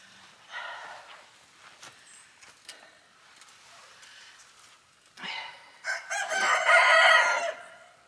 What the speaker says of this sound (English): I apologize for all the rooster noises.